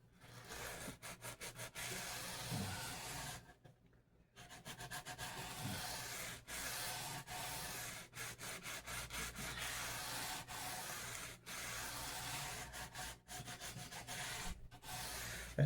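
Hand sanding of a Squier bass's fret edges with 320 grit sandpaper, a close, quiet rasping rub in quick repeated strokes with one short pause.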